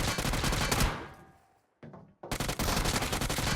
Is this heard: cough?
no